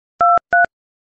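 Two short, identical electronic telephone tones, the first at once and the second just after, loud and clean against silence.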